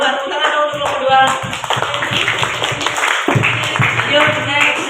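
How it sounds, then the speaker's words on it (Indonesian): A classroom of students clapping for a group of classmates, brisk close hand claps that mix with chatter and voices through the whole stretch. "Tepuk tangan dong untuk kelompok 2"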